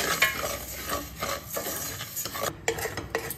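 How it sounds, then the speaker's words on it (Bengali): Fennel seeds dry-roasting in a pan for a brief few seconds, stirred with a spoon, giving a steady scraping rustle with a faint sizzle and clinks of the utensil against the pan, close and continuous, with no voices. "মৌরিটাকে 10 সেকেন্ডের জন্য ভেজে নেব"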